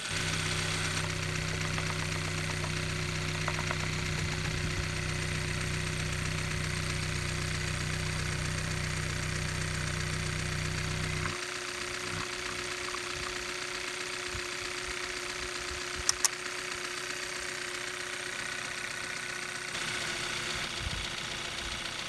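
Car engine idling after a Lucas Oil Stabilizer treatment, a steady mid-pitched hum with a faint knock, running continuously and close, its low rumble dropping partway through.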